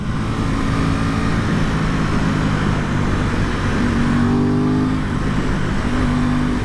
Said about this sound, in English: The noise coming from the induction is divine.